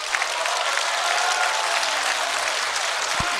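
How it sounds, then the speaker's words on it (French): Sustained applause from an audience at a public debate meeting, a thick wash of many hands clapping continuously and evenly, close and fairly loud. "Merci de vos applaudissements"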